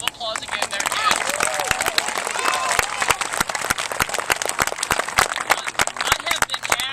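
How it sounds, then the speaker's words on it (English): Sustained applause from a crowd including children at a school construction groundbreaking, steady dense clapping throughout with a murmur of voices underneath. "Let's give them a quick round of applause again there"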